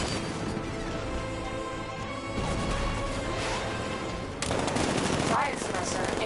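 Batmobile riot suppressor fire in the video game Batman Arkham Knight, a dense continuous burst of rapid gunfire with crashing impacts, growing louder toward the end.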